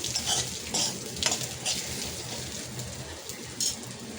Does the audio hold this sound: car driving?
no